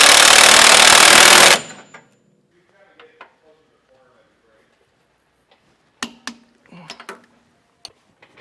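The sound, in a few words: tightening end link hardware with 15/16 socket and wrench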